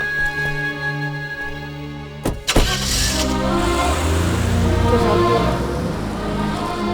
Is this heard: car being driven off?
yes